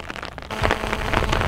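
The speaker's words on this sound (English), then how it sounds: "Well, you'll be pleased to hear the rain's getting heavier." Heavy rain pelts down on a farm field of oilseed rape, a dense, loud hiss of drops that swells after a brief lighter patter, with no voices.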